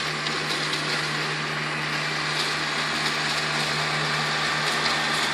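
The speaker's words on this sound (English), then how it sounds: "that tractor's kind of loud" A loud Kubota tractor engine drones steadily and close while mowing grass, with a constant low hum and a broad mechanical roar and no talking.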